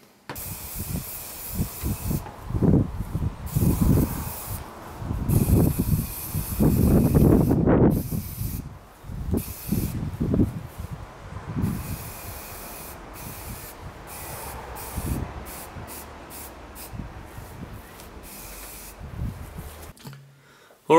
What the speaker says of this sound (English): I need to put some more primer on and give them a couple of coats of paint.